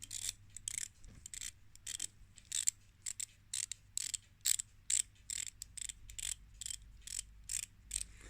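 The plastic bezel of a Seiko SNE535P1 watch, loose with some play, turned in short bursts of fine ratcheting clicks separated by brief pauses, very close and quiet.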